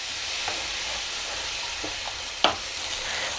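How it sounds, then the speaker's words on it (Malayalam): Ground tomato paste sautéed in a hot pan for tomato rice, giving a steady close sizzle and fry hiss with a few soft stirring scrapes and one sharper clack; no talking. "തക്കാളിയും കൂടെ ചേർത്തിട്ട് നന്നായിട്ടങ്ങ് വരട്ടിയെടുക്കാം"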